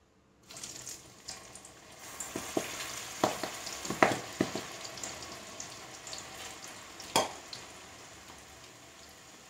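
Jackfruit pieces dropped into hot coconut oil for crispy Kerala chakka varuthathu sizzle and crackle steadily, with sharp pops and splashes as pieces hit the oil, close and moderately loud with no talking.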